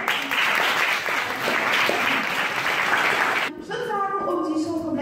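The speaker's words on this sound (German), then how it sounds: "Dann auch nochmal hier deinen Applaus." Loud, dense applause from a crowd fills most of the clip, then cuts off abruptly as a voice begins speaking.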